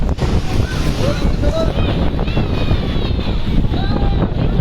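High tide waves at Old Digha beach roar in a loud, continuous surge, with heavy wind buffeting the microphone and faint voices in the background.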